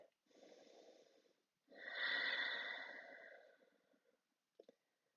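Slow, deep Ujjayi breaths in a gentle vinyasa yoga class: a soft breathy inhale, a pause, then a longer, louder ocean-like exhale that fades away, ending with a couple of brief faint sniffs.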